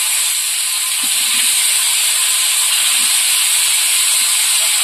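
Potatoes added to fried onion sizzling in hot oil, a loud, steady hiss with occasional faint clinks, no talking.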